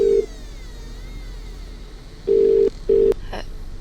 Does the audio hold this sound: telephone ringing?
yes